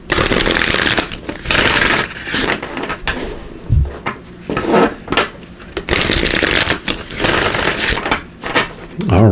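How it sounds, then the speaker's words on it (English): A deck of oracle cards is shuffled in loud, close bursts of riffling and rustling, with short pauses and soft handling taps between the runs. "Let's give these a good shuffle."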